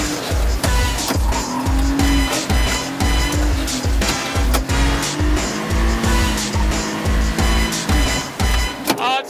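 An MG Midget with an open differential skids with its tyres squealing loudly and continuously over a rough, regularly thumping engine note, up close and with no talk.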